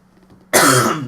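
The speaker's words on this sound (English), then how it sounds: "this cough which I've got is so annoying" A single loud, harsh cough from a person, bursting out suddenly after near silence and ringing on for about half a second, close to the listener.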